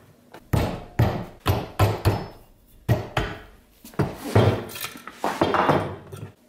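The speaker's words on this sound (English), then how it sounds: "the rest of the time, I'm just bringing it down with this rasp." A rasp files down a small vintage hewing axe head, a series of loud, rhythmic scraping strokes, roughly two per second, close up and with no one talking.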